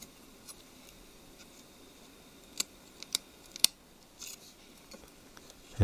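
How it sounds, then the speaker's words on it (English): Small plastic clicks and ticks as the 3G GSM antenna cable is disconnected inside an opened Google Nexus 4 (LG E960) phone, a few sharp close snaps scattered over a quiet background. "Start by lifting this tape off and disconnect the 3G GSM antenna cable."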